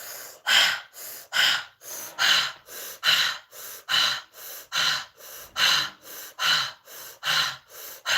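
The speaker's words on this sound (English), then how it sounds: "Start breathing. We're going to do for 5." Deep breathing exercise, a steady series of about fourteen loud, close inhales and exhales in an even rhythm, each breath separated by brief quiet gaps, with no talking.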